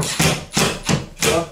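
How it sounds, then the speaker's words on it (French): A small screw is driven into a pre-drilled pilot hole in a wooden stud of a plasterboard partition, giving four evenly spaced, close grinding bursts of a screwdriver or drill, each with a brief pause between. "je viens juste visser ma vis, mais légèrement juste à forcer"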